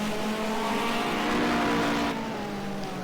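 Hot rod and saloon racing cars, including a Mini and an Escort, circuit the Arena Essex oval with steady loud engine drone and revving, a dense continuous roar from several cars close by.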